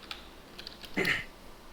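Faint computer keyboard typing in a few soft taps, then a brief louder clatter near the end, all at low level with no talk.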